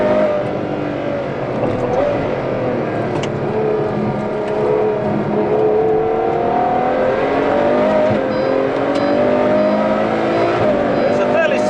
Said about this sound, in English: Chasing down a Ford GT in an 812 Superfast.